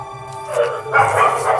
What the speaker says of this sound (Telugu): కుక్కలు అరుస్తున్నాయి